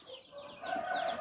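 Roosters cluck and call inside a coop, a faint, somewhat distant rising cackle over low background noise.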